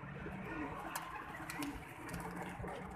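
Pigeons coo faintly amid a dense, noisy background as they come down to land for grain, with a few sharp clicks and flutters scattered through.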